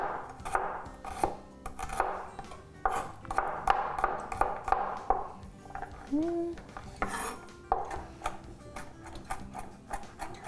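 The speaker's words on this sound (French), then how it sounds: "Donc l'ail, je vais hacher finement." Garlic finely chopped with a knife on a cutting board, a steady series of crisp, close taps with brief pauses and an occasional clink of utensils.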